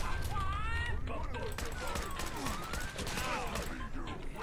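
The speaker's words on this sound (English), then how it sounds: "I can just sort of kind of shoot him a bunch of times" Repeated gunfire from a weapon in Fallout 4's survival mode, a rapid string of sharp cracks with one target shot many times, heard under steady talk and game background noise.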